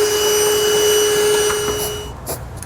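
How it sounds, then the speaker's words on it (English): A vacuum cleaner sucking up aluminum shavings in a 2020 Ford F-250 Super Duty truck bed whines loudly and steadily with a constant high tone, then cuts off near the end, leaving a few faint clatters. "I'm actually going to vacuum up all my aluminum shavings"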